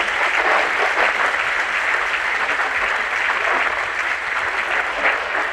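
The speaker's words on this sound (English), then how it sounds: "I give him a round of applause." Sustained, dense applause fills a military officer basic course graduation hall, steady and loud for about five seconds with no break or voices rising above it.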